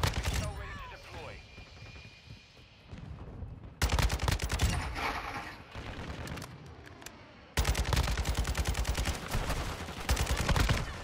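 Rapid bursts of Kastov 762 rifle fire in Call of Duty Modern Warfare II, loud and close, with sustained automatic strings separated by short pauses. Game voice chatter and battle noise sit underneath.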